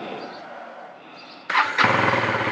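A motorcycle cold start: a steady low hum, then a sharp ignition burst about midway and the engine catching into a loud, rough idle that runs to the end.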